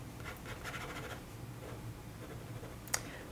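A Charlie fountain pen with a normal nib drawing on paper, heard as faint, close scratchy strokes in short bursts, ending with a single sharp click.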